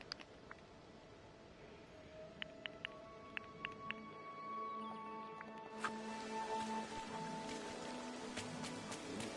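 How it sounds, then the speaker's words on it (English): Steady rain in a video game (Disney Dreamlight Valley) patters across the scene, a soft wash of drops with a few sharp ticks, growing a bit louder and brighter partway through. "maybe it's just dark because it's raining."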